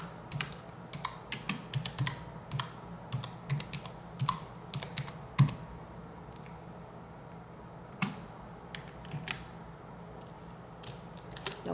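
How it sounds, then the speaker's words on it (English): Typing on a computer keyboard, with quick close clusters of key clicks broken by short pauses and occasional single taps over a quiet room. "we'll type in legal definition"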